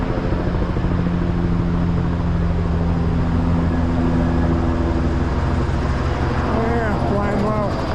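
A low-flying helicopter passes over a river on opening day, its steady heavy rotor and engine roar filling the air at close range, with a faint throbbing whine emerging near the end.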